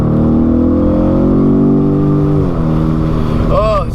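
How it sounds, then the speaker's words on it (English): A BMW M850i's big V8 drones loudly and steadily as it pulls, the tone rising and then settling before a brief higher whine near the end, heard up close inside the car. "when you drive a big V8 like this"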